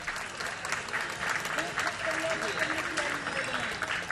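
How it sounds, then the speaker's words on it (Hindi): Audience applause welcoming a guest at a Jain religious question-and-answer gathering with a Jain monk, a steady wash of clapping with voices mixed in underneath. "आप लोग सभी जोरदार तालियों से हाँ स्वागत अभिनंदन करें"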